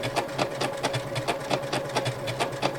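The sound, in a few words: sewing machine stitching small quilt circles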